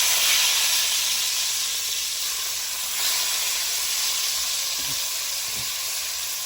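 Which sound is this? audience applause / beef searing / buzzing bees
beef searing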